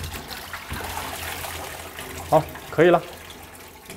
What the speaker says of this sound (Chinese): 放在這個上面洗一下，把它的血水啊、鹽分啊全部洗掉。